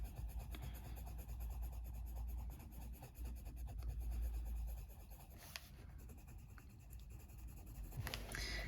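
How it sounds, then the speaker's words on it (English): Polychromos coloured pencil burnishing skin-tone highlights with white on paper, a steady close rubbing scrape continuing throughout with brief pauses and shifts in stroke. "burnish those highlights with the white"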